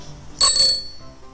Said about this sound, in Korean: 따릉따릉 따르릉 하는 자전거 벨소리